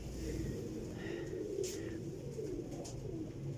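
Racing pigeons coo softly in a loft, a low, throaty burbling that rolls on continuously, with a few faint higher chirps above the cooing.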